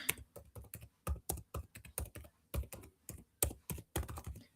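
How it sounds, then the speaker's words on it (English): Someone types an email address on a computer keyboard, with close, crisp keystrokes arriving in quick irregular bursts separated by short pauses. "I'm just typing my email address for Chuku on YouTube"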